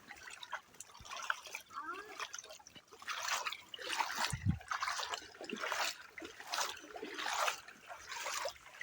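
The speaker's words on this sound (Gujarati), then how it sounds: "અમારા રસ્તામાં આવું પાણી છે, આપણે પાણી પાર કરી અને જવાનું છે" Water flows and trickles across a rural path as someone wades through it, with soft splashing surges rising and falling at close range, faint and continuous, with no talk.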